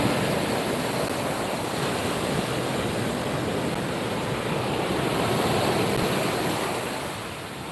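Ocean surf washes steadily onto a beach during surf fishing in Ocean City, Maryland, a continuous broadband roar of breaking waves, loud and close, easing slightly at the end, with no voices.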